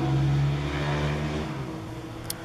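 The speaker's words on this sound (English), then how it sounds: "Loud cars." A loud car passes close by outside a flower garden, its engine drone strong at first then fading steadily as it moves away over a couple of seconds, with no talking.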